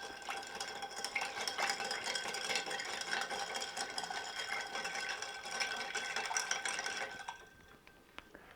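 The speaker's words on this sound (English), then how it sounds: "And give that a good stir." A bar spoon stirs an Old Fashioned-style cocktail of agave syrup and Angostura bitters over ice, giving steady close rattling and swirling clinks for about seven seconds before stopping.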